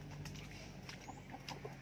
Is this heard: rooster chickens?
yes